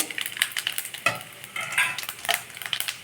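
Cumin seeds and chana dal sizzle in hot oil for aval upma as a spoon stirs them, with crackling fry noise and repeated scraping strokes in a pan, close and continuous without talk.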